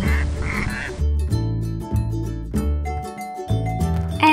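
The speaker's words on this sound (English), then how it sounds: "A mandarin duck and a mallard duck." A mandarin duck and a mallard duck quack in short repeated bursts, loud and near, over a steady tonal background with no speech.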